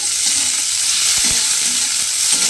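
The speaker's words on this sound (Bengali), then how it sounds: "পেঁয়াজটা কিন্তু আমি তেলের মধ্যে দিয়ে দিলাম" Finely chopped onion frying in oil gives a loud, even sizzle throughout, with a couple of light utensil taps and no voices.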